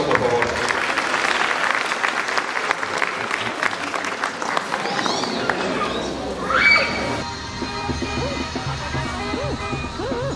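An audience at a primary school graduation claps steadily in a dense, continuous wash of applause, with crowd murmur and a voice over a loudspeaker toward the end.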